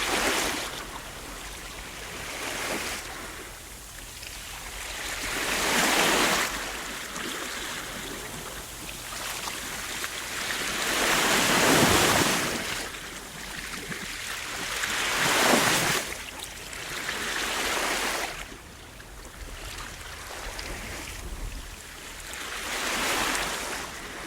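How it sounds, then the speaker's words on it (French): Sea waves at the seaside roll in and break in slow, regular swells about every four to five seconds, a broad hissing wash rising and receding at moderate volume with no voices. "Là, on entend le bruit de la mer"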